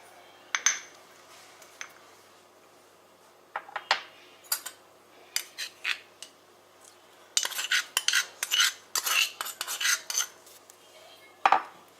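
Raw papaya salad with crushed peanuts and dressing is tossed with a utensil in a bowl, making sparse clinks and scrapes in short clusters that grow busier toward the end.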